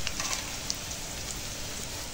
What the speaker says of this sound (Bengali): আর একটু পেঁয়াজ দিয়ে দিলাম, আর 2টো কাঁচা পাকা লঙ্কা দিয়ে দিলাম। এবার এই ফোড়নের সঙ্গে একটু ভেজে নেব।